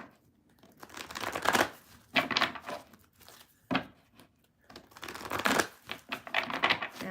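A deck of tarot cards is shuffled in repeated bursts of papery riffling and crinkling, close and fairly quiet, with short pauses between each pass.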